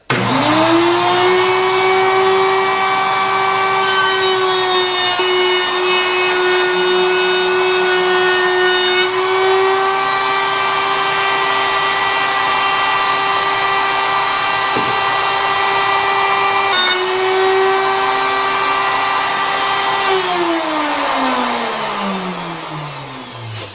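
A router shapes a rounded edge on a wooden board, its high motor whine holding a loud, steady pitch throughout with slight dips as the bit cuts, then winding down at the end.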